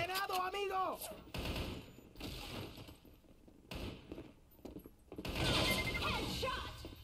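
Rapid gunfire bursts from the online team shooter Battle Carnival, with sharp automatic volleys and glassy, clattering impacts coming in several separate clusters, loudest near the end.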